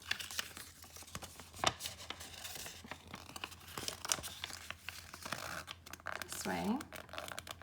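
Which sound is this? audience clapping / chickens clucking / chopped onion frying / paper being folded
paper being folded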